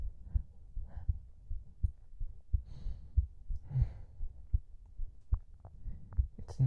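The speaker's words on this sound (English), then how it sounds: "I don't know if you hear my heartbeat going faster right now because of that." A heartbeat heard close up, steady soft low thumps in a regular rhythm with faint breathing in the background.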